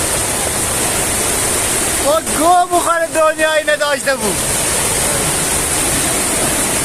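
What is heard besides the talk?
waterfall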